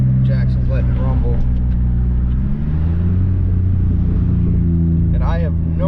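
A Subaru Forester engine rumbles steadily just after start-up, a loud, deep, continuous idle with a slight pitch shift midway, while people talk briefly over it.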